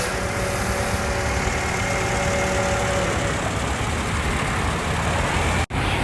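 A 2008 Honda CR-V 2.4 with its original petrol VTEC engine idles up close, holding a steady, loud rumble and whir for several seconds with a brief cut near the end.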